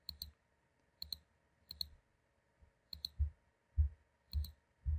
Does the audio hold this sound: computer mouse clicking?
yes